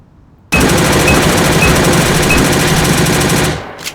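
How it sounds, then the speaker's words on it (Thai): Rapid automatic gunfire from a PMX rifle in the online shooter A.V.A, a loud, continuous rattling burst lasting about three seconds after a brief quiet start, then cutting off abruptly; no talking. "เดี๋ยวเรายิงรัวหน่อยดิ"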